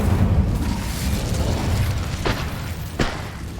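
Incendio fire spell cast in Hogwarts Legacy: a rumbling whoosh of flame with sharp bursts near the end, loud and close, no talk over it.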